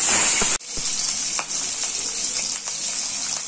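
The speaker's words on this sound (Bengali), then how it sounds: "মাছগুলো কিন্তু আমি বেশি ভাজবো না, হালকা ভেজে আমি তুলে নিচ্ছি।" Pieces of hilsa fish frying in oil in a pan, a loud steady hiss and crackle that starts abruptly and holds throughout, with faint scraping taps underneath.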